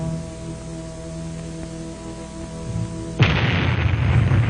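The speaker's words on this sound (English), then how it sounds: "The moments tick away as we await the bomb and the fireball." Archival footage of a 1954 atomic bomb test: a steady low hum gives way to a sudden, loud, broad blast roar that keeps rumbling to the end.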